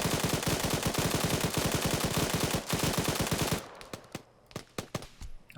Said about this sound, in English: I go to remote control this guy, stand him up, maybe put some suppressing fire downrange